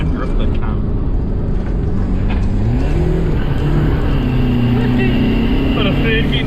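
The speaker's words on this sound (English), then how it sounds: "I'm trying to drift the car." A Mitsubishi Strada WLT pickup on 225 tires is driven hard on a dry track and pushed into a drift, its engine droning loudly with gear changes and rising revs, a voice talking over it.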